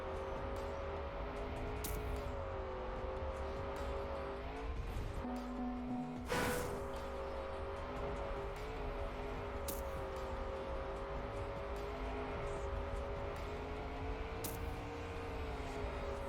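A steady synthetic car engine drone from the racing game Trackmania hums continuously, with slight pitch shifts and a few sharp clicks, moderately quiet throughout.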